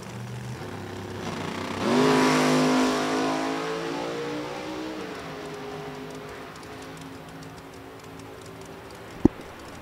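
Top Sportsman drag race cars at National Trail Raceway accelerate down the track, a loud engine roar swelling quickly, then sustained and slowly fading into the distance, with a sharp click near the end.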